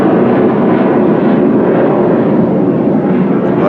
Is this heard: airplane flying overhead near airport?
yes